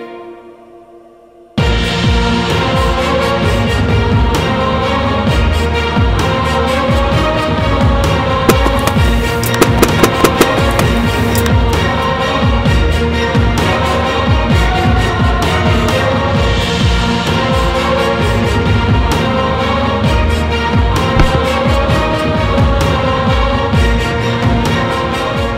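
Gunpowder charge blowing up a pineapple outdoors, a sudden loud blast that gives way to a long, dense roar of crackling and rumbling that holds steady at high loudness, with no voices over it.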